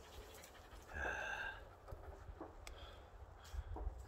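Several dogs pant after a long hike over mountains while out foraging wild greens, a faint, fast breathy rhythm running through the clip with a brief louder whine-like stretch near the start.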